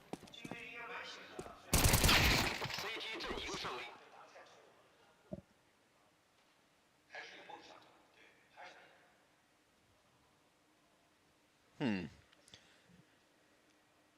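Glock pistol shots in a Counter-Strike match, a dense burst of gunfire followed by scattered single shots and clicks, with a commentator talking over it.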